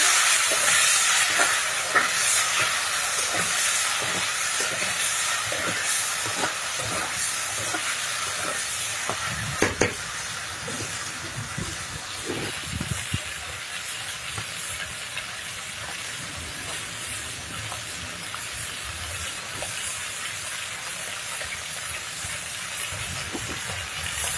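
Food frying in oil as it is turned over, a loud, continuous broadband hiss and crackle that runs steadily for the whole stretch with little change.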